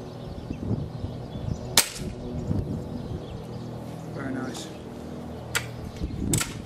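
A TX200 air rifle fitted with a Tony Leach 22mm piston conversion fires, giving a few sharp, close cracks spaced seconds apart over quiet room noise with faint handling sounds.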